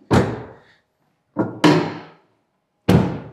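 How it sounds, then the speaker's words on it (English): A DFSK vehicle's cargo box door shuts with three sharp, close slams: one near the start, then two more about a second and a half apart, each ringing out briefly into silence. "And let's close the door."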